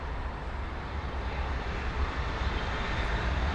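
A Lufthansa jet airliner at Heathrow produces a steady, even engine roar with heavy low rumble, moderately loud and unbroken for a few seconds, with no talking.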